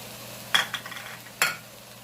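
A spoon stirs whole spices, black cardamom, cinnamon and cumin, in a pan for chicken masala, giving a few brief close metallic scrapes and clinks over a low steady hum, no talk.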